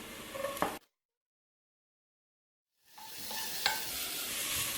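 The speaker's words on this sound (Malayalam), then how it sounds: "ഈ ഒരു സമയമാകുമ്പോൾ നമുക്ക് ക്യാരറ്റ് ഇട്ട് കൊടുക്കാം." Carrots tossed into a pan of browning onions and stirred, giving a soft sizzle with a scraping stroke, then a long silent gap before the frying hiss returns steadily.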